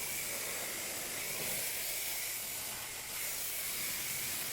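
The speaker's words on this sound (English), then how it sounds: "I like to pre-rinse that very thoroughly before I get to the wheel" Water spray hisses steadily and loudly at close range as it pre-rinses a carpeted wheel liner packed with leaves and road grime on a Lincoln Aviator, a continuous broadband rush with one brief dip.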